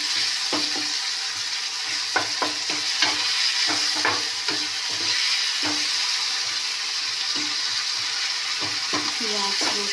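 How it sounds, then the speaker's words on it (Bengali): Onion and garlic fry in a pan under a steady hiss, with repeated scrapes and clacks of a spoon stirring through them. No one speaks. "পেঁয়াজ রসুন কষিয়ে নিই"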